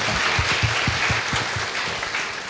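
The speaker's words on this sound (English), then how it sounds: "One round of applause for Luke once again." Dense, steady applause from a crowd fills the space, with a low voice murmuring faintly underneath.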